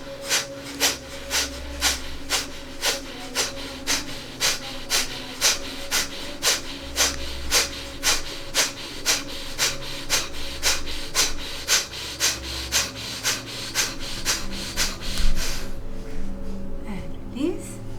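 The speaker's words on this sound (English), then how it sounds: "Exhale, breath of fire." Rapid rhythmic breath-of-fire breathing from a seated yoga exercise: quick forceful nasal exhales pulse steadily and close-up for about fifteen seconds, then stop abruptly.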